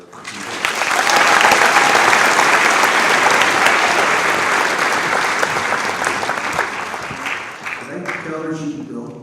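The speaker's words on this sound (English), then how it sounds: "A warm round of applause for" A large crowd gives loud sustained applause for an award recipient at a senior awards night, a dense roar that swells quickly, holds, then tapers as talk begins at the end.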